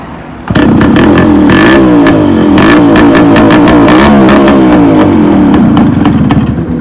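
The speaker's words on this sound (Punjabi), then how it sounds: "ਤੇ ਆ ਸਟਾਰਟਿੰਗ ਰਹੀ ਮੋਟਰਸਾਈਕਲ ਦੀ" A Yamaha RX 135 motorcycle engine catches abruptly and settles into a loud, steady, slightly uneven idle with rattly mechanical ticking, very close.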